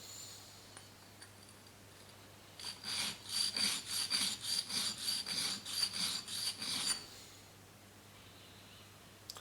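A shaper tool edge is lapped to a mirror gloss with a steady run of close, rhythmic rubbing strokes, about a dozen back-and-forth scrapes in quick succession with quiet before and after.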